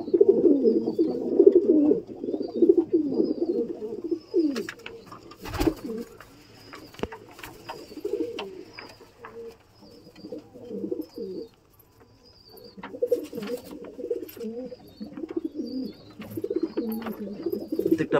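Pigeons in a roofed pigeon shelter coo steadily in a low, murmuring chorus, thinning out briefly midway before building back up, with a few sharp knocks and faint chirps mixed in.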